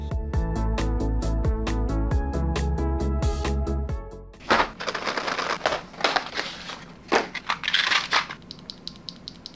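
Pre-lubed Wuque Studio Marandi linear keyboard switches being pressed into a plate make a run of sharp, close clicks and snaps, following a short stretch of music.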